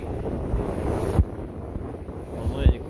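Wind buffets the microphone aboard a Figaro offshore racing sailboat at sea, in light air of about eight knots. The rush is steady, with a few sharper gusty thumps and faint water noise underneath.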